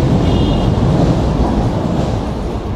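A Japanese-made electric commuter train in a fully wrapped livery passing close by on a Manila rail line, a loud, steady broadband rumble with faint wheel squeal holding throughout.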